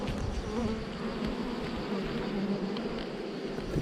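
A dense swarm of honeybees hums steadily around an open beehive, a continuous close buzzing drone with individual bees whining past the microphone.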